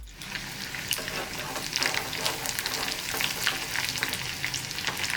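Crushed garlic and curry leaves sizzle steadily in hot oil, a dense continuous frying crackle with occasional stirring scrapes and no voices.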